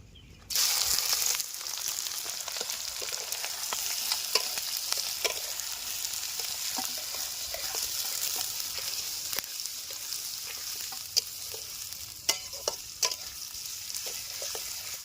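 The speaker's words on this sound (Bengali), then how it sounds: "তেল গরম হয়ে গেছে, এবার পেঁয়াজ কুচিগুলো দিয়ে দেবো।" Chopped onions drop into hot mustard oil in a wok and fry with a loud, steady sizzle that lasts throughout, with occasional stirring scrapes and no talking.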